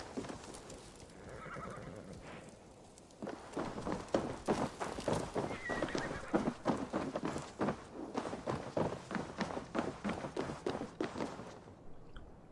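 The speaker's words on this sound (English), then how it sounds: "I think the horses are fighting each other for my attention" Several horses whinny and neigh repeatedly in the video game Assassin's Creed Valhalla, loud and close, with clip-clopping hooves and restless movement between the calls, ending abruptly.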